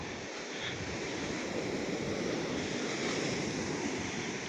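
Sea waves at a beach in the morning, a continuous broad roar of surf with steady wind noise on the microphone, no voices and no clear break in the wash.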